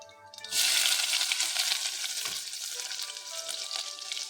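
Onion and ginger pieces hit hot oil in a pan and burst into a loud, steady sizzle that holds for several seconds after a brief quiet start, with no talking.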